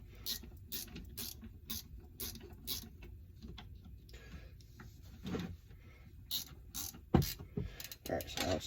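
A nut being tightened on a bushing puller during bushing removal from an HPC Speedex key cutting machine, giving a series of repeated ratcheting clicks and creaks in short bursts, close and fairly quiet, with no talking.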